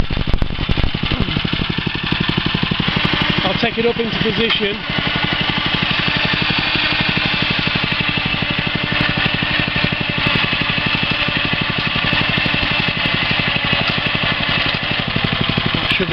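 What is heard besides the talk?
deep well drilling rig engine idling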